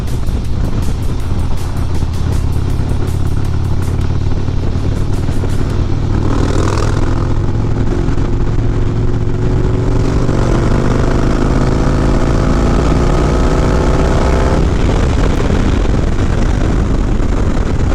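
A stage 2 tuned 2023 Harley-Davidson Road King with a 114ci engine runs as a loud, steady, deep rumble, with a pitch rise partway through and a continuous roar throughout.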